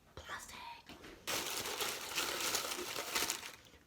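Thin plastic wrap crinkled and crushed by hand in a home kitchen while baking bagels, a dense crackly rustle that swells loudly after a brief softer start and continues steadily, close up.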